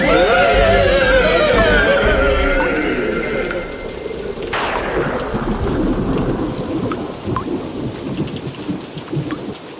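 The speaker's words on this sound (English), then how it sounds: "Is it raining in there? It's raining out here, too." Heavy rain pours with a loud crack and long rolling rumble of thunder, the storm fading slightly into a steady downpour and patter in a cartoon soundtrack.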